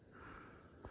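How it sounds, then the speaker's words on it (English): Pig frogs call at night from a distance across the road: a faint, steady chorus of low grunting croaks, heard alone for about a second. "there's a bunch of pig frogs calling over there"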